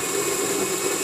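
Coffee grinder grinding Sumatra whole bean coffee at a fine-to-medium setting, a steady loud motor drone and whirr heard close up with no talking.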